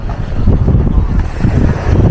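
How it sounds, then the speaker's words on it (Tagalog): Strong wind at Puka Beach, Boracay, buffets the microphone in a steady low roar, with gusty rumbling throughout and no clear voices. "Malakas ang hangin, no, sa part na ito,"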